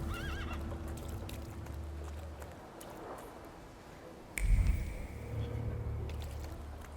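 A horse in the video game The Thaumaturge whinnies briefly near the start, followed by a thud and hoof sounds over a low background hum.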